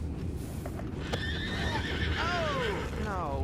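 A horse in the video game Red Dead Redemption whinnies loudly and close by, its shrill neigh sliding downward near the end over a steady bed of ambient background noise.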